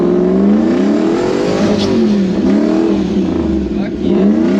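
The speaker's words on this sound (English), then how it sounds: "That's all four wheels fucking tearing it up." Toyota Land Cruiser bush truck with a 1UZ VVTi engine accelerating on a test drive as the wheels spin, with a loud, steady engine roar whose pitch rises and falls in waves throughout.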